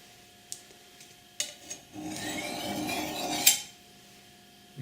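A kitchen knife is drawn from base to point along a sharpening steel: one long, smooth metallic scrape of about a second and a half ends in a sharp ring at the tip, after a few light clinks of blade on steel.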